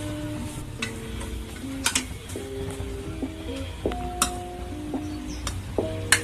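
A spatula stirs chicken fried rice with egg and pepper in a pan, producing repeated scraping clinks and light tapping over a faint sizzle, with no talk.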